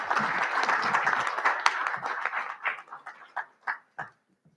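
Audience applause at a daytime event, dense clapping from a crowd that thins out into a few scattered, separate claps before stopping.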